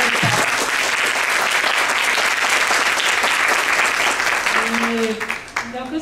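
An audience at a talk about copyright applauds strongly and continuously for several seconds, a dense roar of many hands that tapers off at the end as a voice begins speaking.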